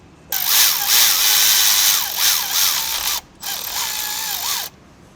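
A ratchet with a swivel socket works a bolt loose on a Chevrolet Silverado with a 5.3L V8, giving a loud, steady rapid clicking for about three seconds, a brief pause, then another burst of fast clicks.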